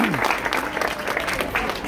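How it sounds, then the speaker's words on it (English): An audience at a school computer donation ceremony claps in a brief, dense burst, with a voice speaking briefly over the start of the applause. "Let's give another round of applause for"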